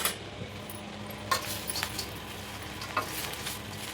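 Cabbage manchurian is stirred in a frying pan, giving a steady sizzle with a few scraping clinks of a spoon against the pan.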